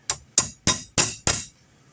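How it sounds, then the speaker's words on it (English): A hammer strikes a steel drift punch held in a vise to drive out a nut, five sharp metallic blows in an even, quick rhythm, close and loud with short ringing decay. "I'm going to put a drift in it right here, a punch, and I'm going to knock that out"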